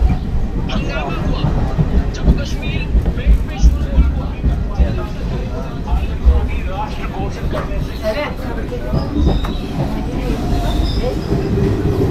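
A passenger train runs near Banihal in Jammu and Kashmir with a continuous loud rumble and rattling wheels. Passengers' voices mix in throughout.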